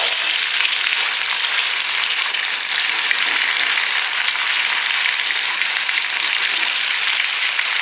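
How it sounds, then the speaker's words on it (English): Goan chicken cafreal, marinated in a piri piri masala, fries in hot oil in a pan with a loud, even sizzle that hisses steadily and unbroken from start to finish, with no speech. "Getting fried."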